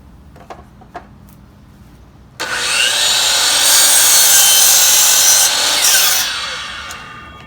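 A miter saw spins up and bites through a wooden board at a 60-degree angle, loud and steady for about four seconds before winding down, with a few faint knocks before the cut.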